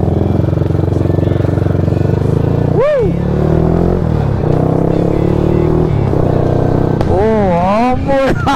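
A Yamaha LC135 V1 motorcycle with a quick shifter and a leaking water pump seal revs hard and loud nearby, its engine pitch rising and dropping in quick sweeps as it shifts through the gears.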